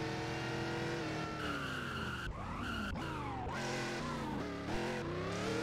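A Prancep RS2 sports car in the Roblox game Driving Empire revs at full throttle, a loud continuous engine whine rising and falling through gear shifts, with tire squeal and skidding mixed in.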